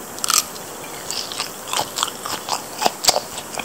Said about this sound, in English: even after roughly 15 minutes since plating, the batter still retained a slight crunch to it